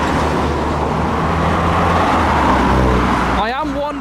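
A Nissan Skyline R33 leaving a Japanese car meet drives past with a steady, loud engine and road rumble; a voice speaks at the end.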